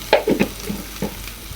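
Spice paste (masala) fries in a pan while a utensil scrapes through it, giving a few sharp, close stirring scrapes over a soft, low sizzle.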